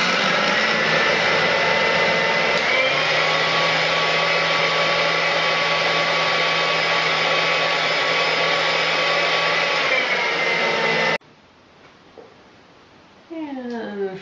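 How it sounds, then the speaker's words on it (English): A blender runs on high, frothing drinking chocolate with a loud, steady whir for about eleven seconds, then cuts off, leaving faint background sounds. "Blend on high for a while."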